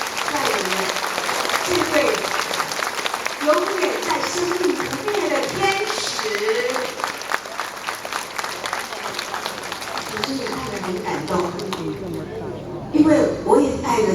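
Audience applause for teacher Liu at a company event, dense continuous clapping from a large crowd held for a long stretch with voices mixed in beneath it.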